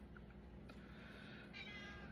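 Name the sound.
cat meowing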